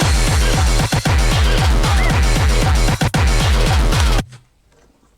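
A breakcore track made in Renoise, driven by big, heavy, bassy kicks: fast, pounding low thumps repeat loudly under harsh, dense noise, with a few brief breaks, then stop abruptly into near silence.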